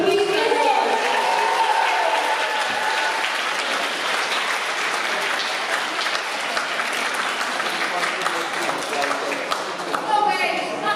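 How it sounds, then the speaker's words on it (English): A fan convention audience applauds steadily for several seconds, a dense wash of clapping with voices mixed in beneath it. "Let's have a big round of applause."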